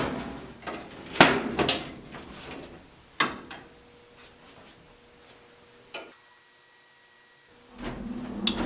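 Blower housing being closed up and its switch flipped: a series of close, sharp clunks and clicks with quiet pauses between, then a low steady hum as the motor begins.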